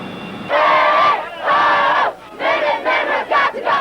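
A large crowd of protesters rallies at a state Capitol, loud massed chanting and shouting in repeated surges, close and dense, dropping briefly between bursts.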